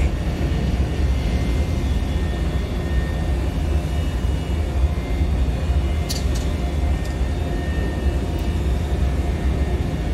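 Embraer E190 jet engines at takeoff thrust in a flight simulator, a dense continuous roar with a steady whine held at even loudness throughout, with a couple of faint clicks partway through.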